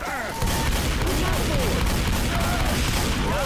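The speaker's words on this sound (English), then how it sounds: "I may have shot you a bit because I had a shotgun" Shotgun blasts from the video game Left 4 Dead 2 during a rain-soaked level, a rapid, dense string of loud booming shots with game noise underneath, close and continuous throughout.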